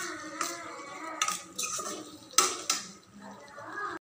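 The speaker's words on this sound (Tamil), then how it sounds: "இதை சர்வ் பண்ணிடலாம்." A spoon scrapes and clinks against a pan and plate while spicy prawn thokku with tomato is served out, giving a few sharp metallic clinks among softer scraping sounds, close by, with no talking.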